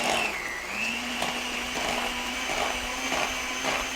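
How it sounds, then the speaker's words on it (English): An electric hand mixer whirs steadily at slow speed, mixing a sugar and vanilla blintz souffle batter, a constant close motor hum with a faint rising pitch early on. "Now I'm going to use my hand mixer for this, and I'll mix this on a slow speed."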